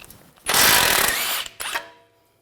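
A ratchet with a 21mm socket loosens a nut on the front lower control arm of a 2006-2010 BMW 550i. There is one loud, close burst of rapid clicking, a short pause, then a brief second burst.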